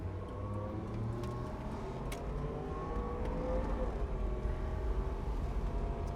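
A 1983 GMC Vandura G2500 van accelerates, its engine a steady low drone heard from inside the cabin, rising slightly in pitch and loudness toward the end.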